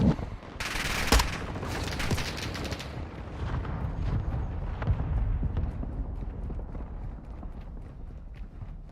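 Gunfire in Call of Duty Modern Warfare II multiplayer: a loud burst of shots opens, then rattling fire continues steadily over battlefield noise.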